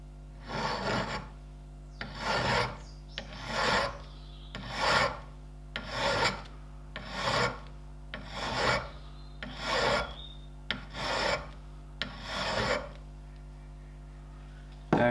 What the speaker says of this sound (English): just file that rivet off, just gently with a file. Obviously a metal file.